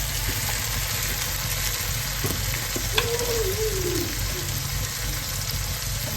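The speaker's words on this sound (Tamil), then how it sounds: "வெங்காயம் பூண்டு எல்லாம் வதங்கிடுச்சு" Onions and garlic sauté in a pan for bitter gourd poriyal, giving a steady, close frying sizzle throughout with a faint stir or clink partway through.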